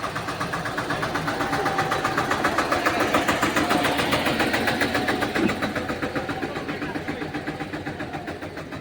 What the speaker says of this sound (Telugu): గ్రామ పంచాయతీ ట్రాక్టర్ల సహకారంతో ఈ యొక్క మట్టిని తెప్పిస్తున్నారు